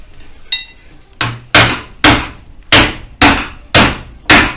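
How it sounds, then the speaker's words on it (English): A big mallet strikes a chisel, knocking off a rusted front panel on a Mitsubishi L200, with seven or eight loud, sharp metallic hits in an even, steady rhythm, close up. "leathering that chisel and smashing bits like this off"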